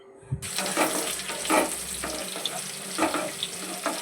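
Onions frying in a small amount of oil with mustard seeds and chillies for a country chicken curry give a steady hiss and crackle, broken by several scraping stirs and light clinks of a utensil.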